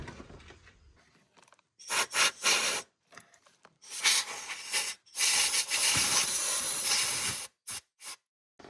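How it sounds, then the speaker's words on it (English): Compressed air blasts in loud, close hissing bursts around a Mercedes OM642 diesel engine part during timing chain work, a few short squirts followed by longer sustained blows with brief gaps between them. "give it a squirt of air to make sure there's no dirt or debris around it that can fall in"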